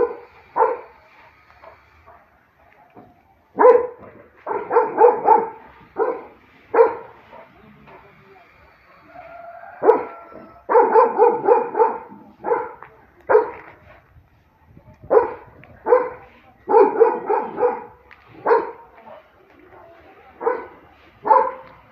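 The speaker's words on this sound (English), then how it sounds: "Looks like I'm disturbing even my neighbors' guard dogs." Guard dogs in a residential neighborhood bark in repeated bursts and clusters, fairly close and loud, with brief quiet gaps between volleys and occasional whimpering yips.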